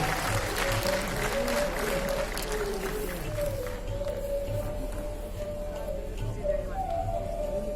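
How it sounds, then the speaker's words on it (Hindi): An audience at a Delhi Police Family Welfare Society event claps for the guests: loud, continuous applause under a sustained tonal drone, with voices mixed in. "एक बार जोरदार तालियां हमारे सभी अतिथियों के लिए।"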